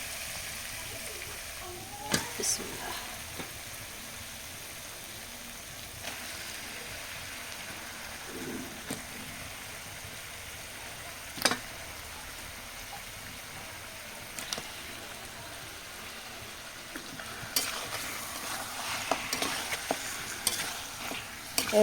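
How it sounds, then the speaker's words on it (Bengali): Country chicken pieces go into fried spice masala in a village-style pan and are stirred: a soft, continuous sizzle broken by occasional spatula scrapes and knocks, close and without voices. "এবার আমি মাংসগুলা দিয়ে দেবো এর ভিতরে।"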